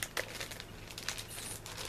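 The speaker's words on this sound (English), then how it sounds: "Plastic bag." A plastic snack bag is opened and crinkled by hand, with soft irregular rustles and crackles close by and faint.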